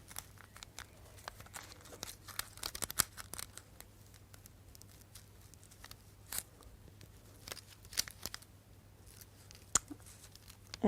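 Scissors snip through felt held against a tracing paper template for goldwork embroidery, giving soft, close, irregular crisp cuts and rustles with brief pauses, quiet and alone.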